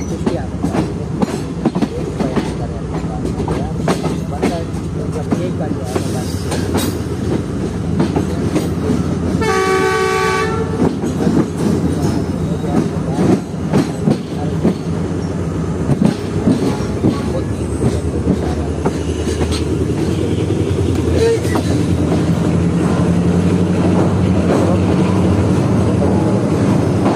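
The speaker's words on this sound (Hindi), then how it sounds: "9:50 में ट्रेन निकली है कोठी जंक्शन रेलवे स्टेशन से।" The Tezgam passenger train runs on the railway in Pakistan with a loud continuous rumble and rhythmic wheel clatter, and a short horn blast sounds about a third of the way through.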